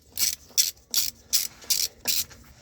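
A ratchet wrench loosens a bolt on a BMW E39 525d, six crisp, evenly spaced ratcheting bursts close to the microphone, each a short clicking rasp, with no talking.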